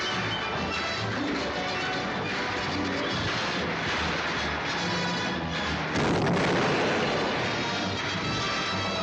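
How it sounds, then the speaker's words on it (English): A western film battle scene with dense artillery fire and gunfire, a continuous roar of booms and shots that grows louder and harsher after six seconds, with no clear talk over it. "Keep on firing!"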